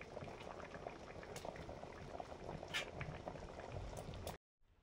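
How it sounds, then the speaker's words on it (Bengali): A pot of sour fish curry bubbling at a steady rolling boil, close and continuous, with soft liquid gurgles and pops as fish goes in, then cutting off abruptly near the end. "মাছ দিয়ে দিচ্ছি।"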